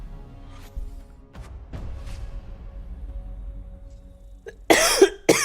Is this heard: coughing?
yes